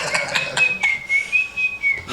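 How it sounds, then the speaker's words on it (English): A person whistles the folk tune Big Rock Candy Mountain, a clear, close melody of sustained and gliding notes heard alone without talk. "We're just whistling Big Rock Candy Mountain."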